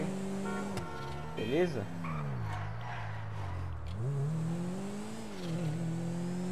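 A Karin Futo car drifting in GTA V Online, its engine drone rising and falling in pitch as it revs and slides through turns, with someone talking over it.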